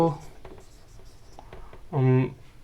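Chalk or marker strokes on a board during a chemistry lesson on atomic mass, a few short scratchy taps and scrapes heard close, with a voice speaking over and between the writing.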